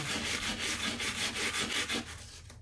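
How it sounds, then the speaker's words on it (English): Sterling silver being lightly sanded by hand with 220 grit sandpaper, a close, steady series of rapid rasping back-and-forth strokes that stops near the end. "we're going to use 220. And just lightly sand."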